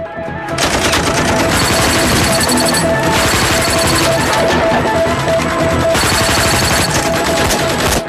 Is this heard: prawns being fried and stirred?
no